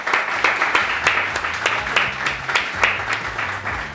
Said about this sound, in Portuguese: Uma salva de palmas, obrigado.